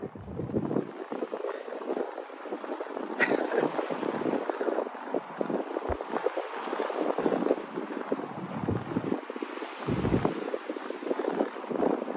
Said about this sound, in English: I think the wind is shifting directions.